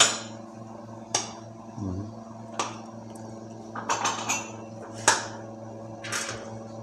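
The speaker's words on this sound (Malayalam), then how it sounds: "നമ്മളെ ബിരിയാണി ദമ്മ് പൊട്ടിക്കുന്നു" A series of sharp metallic clanks and scrapes as the heavy sealed lid of a large biryani dum pot is pried and knocked open, several spaced impacts with a steady low hum behind.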